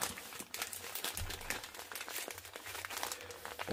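A freezer bag is pressed to force the air out, producing continuous close crinkling and crackling plastic with a few sharper rustles, fairly quiet.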